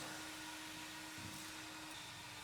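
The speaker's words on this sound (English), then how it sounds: "That's Rail over there vacuuming some floor mats." A steady, fairly faint vacuum cleaner whine cleaning car floor mats runs throughout, a constant droning hum with slight rustling.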